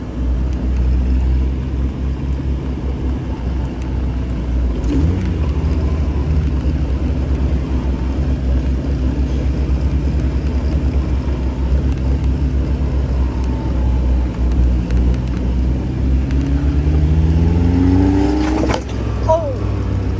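A Mazda Miata engine drones continuously while the car drives after a crash, with rising and falling pitch as it accelerates and shifts.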